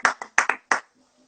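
One person claps five times, close and crisp, in an uneven quick rhythm during a casual home cooking livestream. Silence follows the claps.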